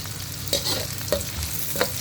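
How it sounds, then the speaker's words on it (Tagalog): Onions sautéing in a frying pan, a steady close sizzle broken by a few distinct scraping stirs of the spatula. "Dito rin tayo bigisa ng sibuyas guys."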